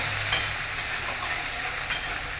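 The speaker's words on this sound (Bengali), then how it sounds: "এবার আদা জিরে ধনে পাতাটা আমার কষানো হয়ে গেছে।" Ginger, cumin and coriander leaves sauté in a pan with a steady broadband sizzle and a couple of soft stirring clinks, close and fairly quiet, with no voices.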